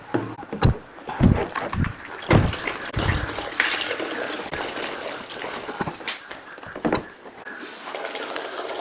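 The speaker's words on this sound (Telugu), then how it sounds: "ఇప్పుడు మళ్ళీ ఇంకొక లీటర్ పోద్దాం." A litre of water pours into a homemade detergent mixture, a steady splashing gush with irregular knocks and bumps from the container, close and moderately loud.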